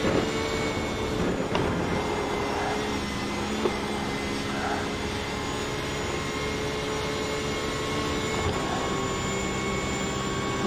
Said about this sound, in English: You can hear there's a problem with the engine,